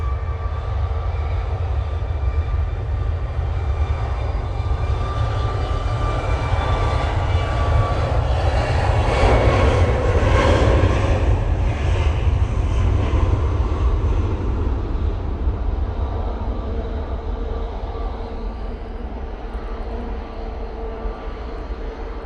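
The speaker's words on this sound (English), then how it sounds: "Ryanair on the roll." A Ryanair jet airliner rolls for takeoff at windy Manchester Airport, a loud, continuous engine roar with a deep rumble that swells toward the middle and then slowly eases as it pulls away.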